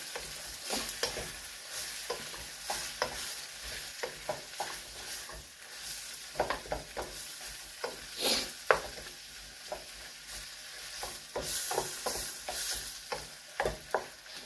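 Onions and garlic fry in a pan for Jamaican-style chicken chop suey, a soft steady sizzle broken by repeated scraping stir strokes at an irregular rhythm.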